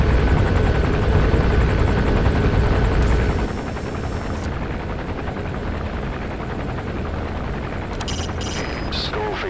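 Helicopter in the video game Metal Gear Solid V: a loud, continuous rotor and engine roar that drops in level partway through and keeps droning steadily, with no voices.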